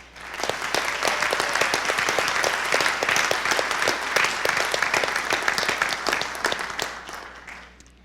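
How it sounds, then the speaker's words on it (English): Audience at a December 2012 College of Engineering commencement applauding parents and guardians: sustained, crowded clapping with many crisp individual hand strikes standing out, loud and steady for about eight seconds before fading at the end. "Can we please get a round of applause for our parents and guardians?"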